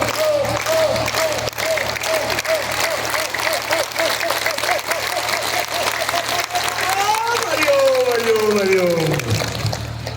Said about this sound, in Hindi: सभी बच्चे ओम के नाम पे ताली वादन प्रक्रिया